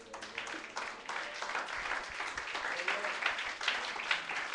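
Congregation at a Sunday school service applauding, a continuous mass of hand claps with voices mixed in underneath throughout.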